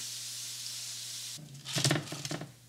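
Hot oil hisses softly, then bursts into louder crackling and sizzling as potato croquettes drop in, bubbling in short, sharp spurts.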